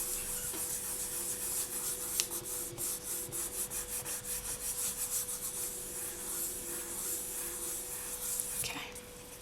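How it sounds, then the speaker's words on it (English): A polymer clay pendant's back being burnished smooth, a quiet close-up series of soft rhythmic rubbing strokes with a steady faint hum in the background. "So just burnish that down and it will give it a nice smooth texture on the back."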